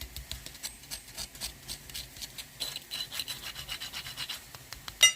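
Close, dry crunching of crisp fried yeast onion flatbreads, a steady run of brittle crackles and scrapes, fairly quiet with no talking.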